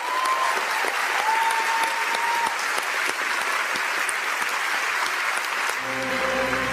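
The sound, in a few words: audience applause at Venice Film Festival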